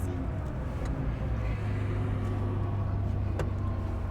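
A 1984 Porsche 911 Safari pulling away in first gear with hardly any throttle, a steady low engine drone heard from inside the cabin without revving, with faint background clicks.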